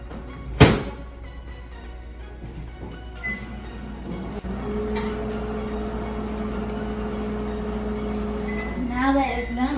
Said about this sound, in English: Now we'll put it back into the microwave for another 45 seconds.